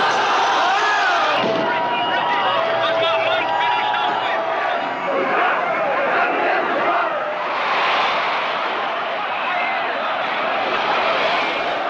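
Agitated crowd rioting in a film scene about a bankrupt world on the edge of anarchy, a dense continuous roar of shouting voices and babble, loud and unbroken throughout with occasional surges.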